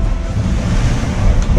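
Wind and waves around a sailboat at sea in the Indian Ocean, loud gusty wind buffeting close by over a rushing, sloshing wash of water against the hull, continuous and without talk.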